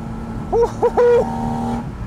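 A Porsche 718 Spyder RS engine revs in three quick bursts, pitch climbing on the last, then settles into a steady drone with road noise underneath.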